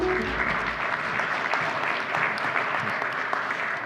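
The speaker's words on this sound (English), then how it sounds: "Let's give them a round of applause." Audience applause at a progressive politics panel event, a steady dense wash of clapping that holds evenly for about four seconds without a break.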